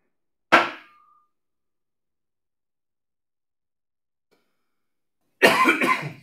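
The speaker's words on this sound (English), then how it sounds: "let's clear my throat." Two sharp, close coughs separated by several seconds of silence, the second one longer and rougher like clearing the throat, at a fine art and antiques auction.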